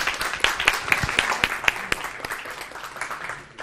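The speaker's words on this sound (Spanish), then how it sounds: "Bueno, primero un aplauso" Brief round of audience applause at a design talk, with a few sharp distinct claps standing out over the softer crowd clapping that tapers off within a few seconds.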